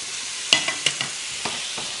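Apple pieces frying in a pan turned up to high heat, a steady bright sizzle with a few sharp clicks and scrapes of stirring in the first second, no voices.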